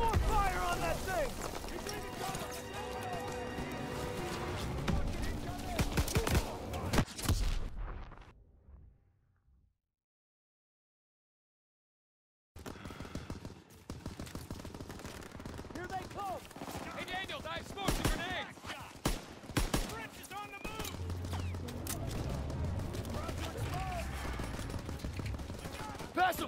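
Heavy gunfire and battle noise from a World War II firefight against a Panzer tank in Call of Duty WW2, loud and continuous, cutting to near silence midway before the combat din resumes.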